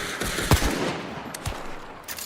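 Bergmann submachine gun firing in Hunt: Showdown, a few sharp shots, one near and loud, others lighter, spread over a couple of seconds without talk.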